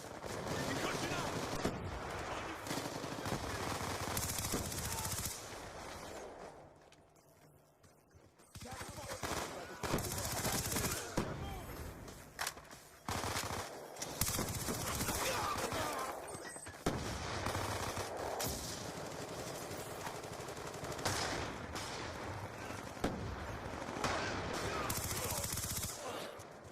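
Vector K10 submachine gun firing in the Black Ops 2 multiplayer game, loud rapid automatic bursts filling most of the stretch with a short lull midway, over game sound effects and announcer voice lines.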